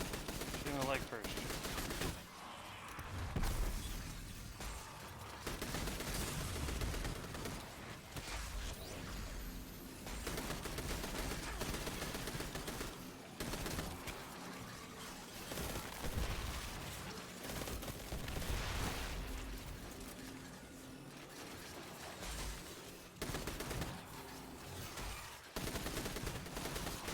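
Repeated bursts of gunfire from Destiny 2 play, with loud clustered shots and crashes separated by brief lulls across the half-minute, while a voice talks now and then.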